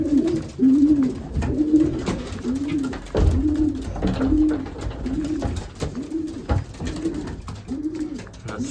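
Young racing pigeons coo close by in a steady series of soft, rolling calls repeating about every second, with light rustling and bumps around them.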